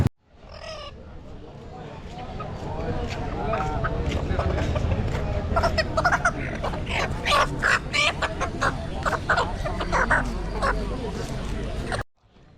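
Native village chickens, roosters and hens, clucking at a rural Bangladeshi wholesale and retail poultry market, a steady busy din of fowl calls and crowd noise with people talking throughout.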